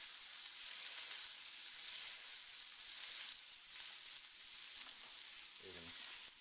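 Small steamed-style burger patties with onions sizzle in a pan, a steady close frying hiss that holds throughout, with a brief scrape of a spatula pressing the onions into the meat near the end.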